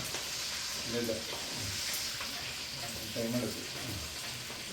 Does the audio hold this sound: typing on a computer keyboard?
no